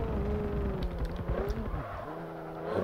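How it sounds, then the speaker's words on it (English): A front-wheel-drive car sliding through a corner in a racing game, its engine droning steadily with a shifting whine as it scrubs sideways, then a dip and the motor pulling again. "As it is front-wheel drive, it doesn't really actually drift. It just sort of slides weirdly."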